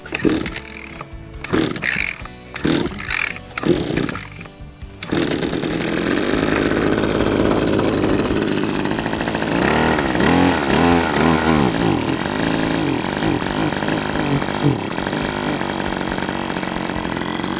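New MT270K multi-tool petrol engine started with several sharp recoil-cord pulls and sputters, then catching into a loud, steady buzzing idle that runs on evenly up close.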